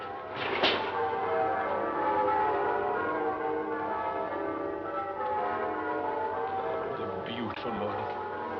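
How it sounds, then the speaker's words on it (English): Church bells ring joyfully on Christmas morning, a steady dense peal of overlapping tones that carries on throughout at moderate loudness, with a few faint other sounds mixed in. "The bells. The merry, merry bells."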